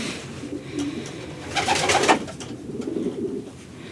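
A racing pigeon, a hen that placed close to first in a 350-mile race, coos softly at close range, with a fuller burst of calling in the middle over a steady background hum.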